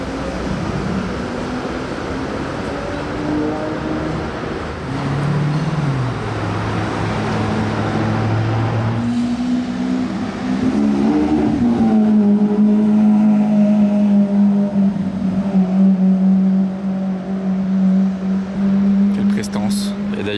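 A Ferrari 812 GTS on a Monaco street, its engine note climbing and then holding steady and loud, with traffic noise and background voices around it.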